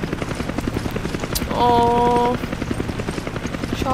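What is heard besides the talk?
helicopter flying in Resident Evil 5 video game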